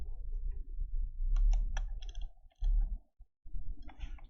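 Mouse clicks while working in an Excel spreadsheet: a few quick, close, sharp clicks in small clusters between low background hum and handling noise, with no voice.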